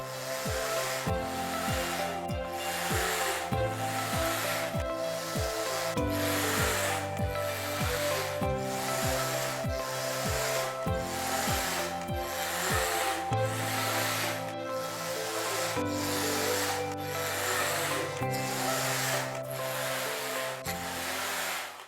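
A Passap Form Computer knitting machine works through rows, its carriage sliding back and forth in a steady repeating rhythm of rubbing, clicking strokes, close and continuous with no talking.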